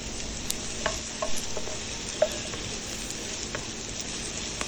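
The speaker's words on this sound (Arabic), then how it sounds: "اضيف المشروم وافضل اقلب فيه لحد ما يدبلوا الاتنين" Mushrooms and softened onions frying in oil and juices left from chicken breasts for a chicken piccata, stirred in the pan; a continuous close sizzle with light scraping stirs and a few small clicks.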